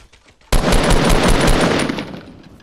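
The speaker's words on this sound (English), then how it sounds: "He's shooting at somebody east on the tree." Rapid automatic gunfire in a video game battle royale match, a loud sustained burst of closely spaced shots starting abruptly and running about a second and a half before trailing off.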